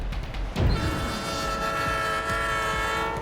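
A nearly mile-long 75-car, 6,000-ton cargo train on a night run at about 52 mph roars past loudly and steadily, its horn sounding a sustained tonal blast over the rumble of the wheels.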